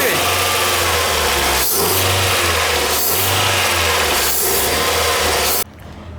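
Engine of a 2010 Ford Fox held at steady high revs, a loud continuous rasping drone that dips briefly at regular intervals, then cuts off sharply near the end.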